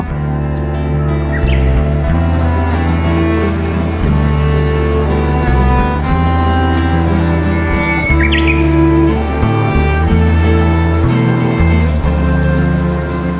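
Birds call and chirp by Twain Khal, a stream deep in the hills of Alikadam, Bandarban, over a dense, steady bed of continuous layered outdoor sound that runs the whole time.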